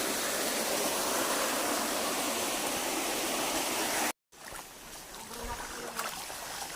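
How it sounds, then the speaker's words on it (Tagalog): Water in a clear, deep creek flows steadily as a broad, continuous rushing wash. It cuts off abruptly and gives way to quieter, softer water sounds with faint handling noise. "Ang ganda ng agos ng tubig oh"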